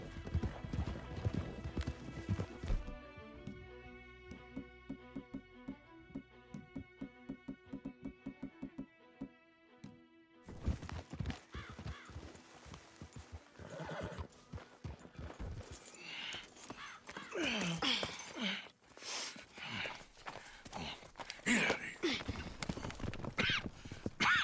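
In a video game, horses trot with rhythmic hoof clip-clops that stay steady at first, then grow busier and louder, with occasional neighs and whinnies mixed in as voices talk over parts of the scene.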